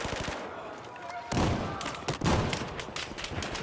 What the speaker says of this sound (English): the F2000 has quite a fast rate of fire